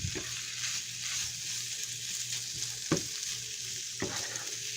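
Kielbasa sizzling steadily in a frying pan, with a few sharp knocks and scrapes of a utensil stirring it at close range; no voices.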